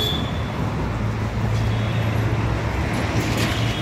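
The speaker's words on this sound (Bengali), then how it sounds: "কত সুন্দর স্পিডে গাড়ি যাচ্ছে এখান থেকে" Continuous roar of traffic rushing past close by at speed on Howrah Bridge at night, a dense, steady rumble with no break.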